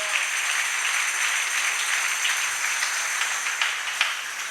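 Congregation at a church service applauding and cheering in acclamation, a steady dense wash of clapping holding evenly throughout.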